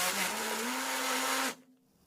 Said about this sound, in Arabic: نبتدي نضربهم في الخلاط،